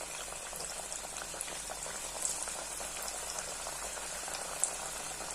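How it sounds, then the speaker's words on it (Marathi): Vadi fritters frying in hot oil over a low flame, a soft, steady, fine bubbling sizzle with a couple of faint clicks and no voices. "अगदी आता मंद गॅसवर आता वड्या सगळ्या आपण करून घेऊयात. एक एक सोडायची."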